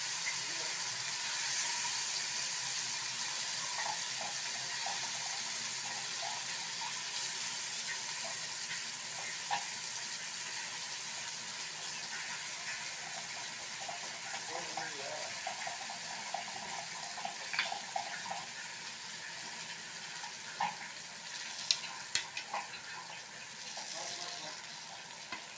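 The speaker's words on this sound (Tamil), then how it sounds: "இந்த மாதிரி எல்லாத்தையும் பேனில் போட்டுருங்க." Eggs fry in hot oil in a pan for masala egg fry, giving a soft, continuous sizzle with faint crackles and pops that grow a little more frequent toward the end.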